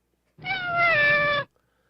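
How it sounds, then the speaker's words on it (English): A cat meows from inside an aircraft's electrical bay, a single drawn-out, clear meow lasting about a second, loud and close, with silence around it. "crew members heard meowing coming from the plane's inner workings"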